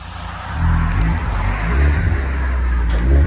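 Ford Fusion SE with an aftermarket exhaust idling and rumbling as the car backs out, a steady, fairly loud low drone with slight swells in engine note and no talk.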